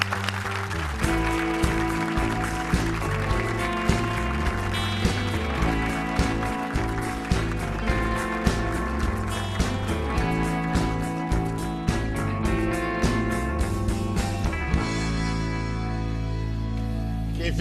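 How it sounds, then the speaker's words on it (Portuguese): A TV studio audience applauds politician Kim Kataguiri, clapping over an upbeat band tune with a steady beat that fades out near the end. "Aplaudam Kim Kataguiri."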